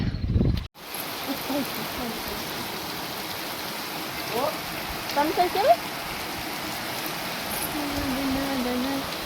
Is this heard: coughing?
no